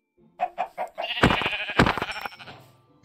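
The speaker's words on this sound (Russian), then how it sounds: "Вот, овца." Several short sheep bleats from the Minecraft video game, a quick run of clipped calls followed by a longer, louder wavering bleat, close and clear with no talking.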